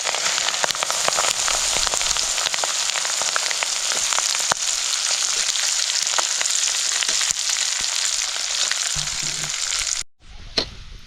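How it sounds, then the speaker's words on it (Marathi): Onion frying in oil for a Solapuri masala, a close continuous crackling sizzle with scattered pops and stirring taps, cutting off abruptly near the end before a brief final spatter. "आणि कांदा तळून घ्यायचा"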